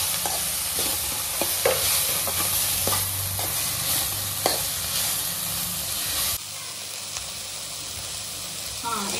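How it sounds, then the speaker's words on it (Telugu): Mint and coriander leaves sizzle and fry in hot oil for a chicken curry masala, with steady scraping stirring strokes close by, the frying hiss continuing throughout under a soft voice. "ఇది కూడా ఆయిల్లో కొంచెం ఫ్రై అయితే బాగుంటుంది."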